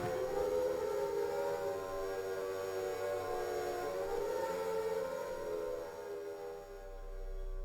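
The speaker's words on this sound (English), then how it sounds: "that air raid siren is so fucking creepy" An air raid siren wails in the Silent Hill video game, a steady droning tone that holds for several seconds before slowly falling away. It sounds faint and distant, with no one talking.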